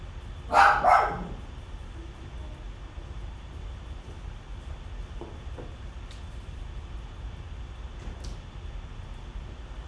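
A dog gives a short burst of two or three quick barks nearby at the start, then quiet room noise follows with only faint scattered clicks.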